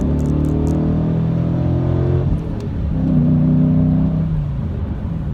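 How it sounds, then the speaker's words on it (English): A Dodge Challenger with a 6-speed manual gives a close, loud engine rumble that swells and falls in a quick rev-match blip, then settles back to a steady idle. "Don't forget the rev match"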